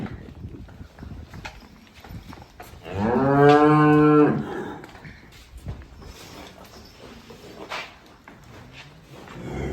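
A single loud, drawn-out moo lasting over a second rises from livestock in a village in Tarn Taran district, Punjab, where buffaloes and cows are kept for sale. Quiet farmyard rustling comes before and after it.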